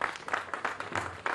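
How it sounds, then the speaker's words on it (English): Crowd applause for the band at a Day of Portugal street celebration, a short burst of dense clapping with rhythmic swells, fairly close and steady with no talk over it. "Let's have another round of applause for these guys."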